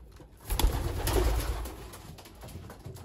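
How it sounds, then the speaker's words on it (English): A breeder pigeon coos in a low, soft murmur just after being released, heard close over rustling and a bit of background hiss, with no talking. "So yeah, overall really nice pigeon."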